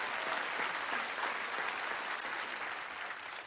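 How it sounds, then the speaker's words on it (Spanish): A church congregation at a Spanish-language sermon gives a sustained round of clapping, an even, moderately distant wash of applause that gradually softens. "Démosle un fuerte aplauso"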